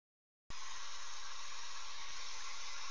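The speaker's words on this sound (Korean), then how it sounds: "지금은 청소기 소음 발생 중입니다." A vacuum cleaner switches on abruptly after a moment of silence and roars as a loud, steady, hissing whine, picked up through the microphone of a SteelSeries Arctis Nova Pro Wireless for Xbox headset.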